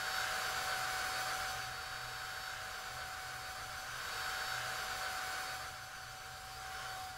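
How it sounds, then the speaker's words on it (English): A hair blow dryer runs steadily with a constant whirring hiss and a thin whine, quite faint and unbroken, with a slight dip in level partway through and no voices. "I need my blow dryer back."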